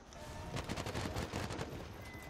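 Rapid gunfire from a venom pistol in Realm Royale, a quick burst of shots fired in succession, fairly dense and mid-level in the game mix.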